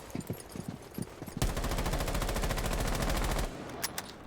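A rapid automatic-weapon burst fires in a shooter video game as the player fights recoil. A few soft clicks come first, then about two seconds of dense, loud, evenly spaced shots that stop abruptly, followed by faint scattered taps.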